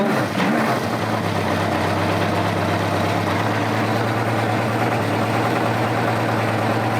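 A motorcycle engine idles steadily during carburetor syncing, a continuous loud, close drone with a slight throttle blip near the start and otherwise an even, throbbing idle.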